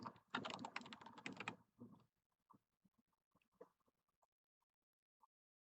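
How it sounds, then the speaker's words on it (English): Keys clatter on a computer keyboard as a word is typed into the Windows 11 Start menu search box: a quick, soft burst of rapid keystrokes, then a few scattered faint taps trailing off into quiet. "I'm going to type the word Bluetooth"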